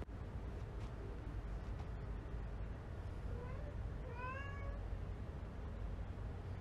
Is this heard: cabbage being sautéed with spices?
no